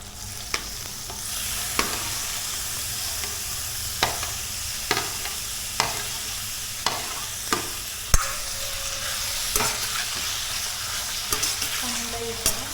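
Squid frying in ghee in a pan for Mangalorean squid sukka: a continuous soft sizzle, punctuated by a regular series of sharp clacks from a spatula stirring against the pan.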